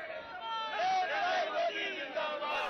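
Dense crowd of many thousands at a political rally for Narendra Modi in Delhi, a continuous roar of cheering and chanting voices with rising shouts, loud and steady throughout.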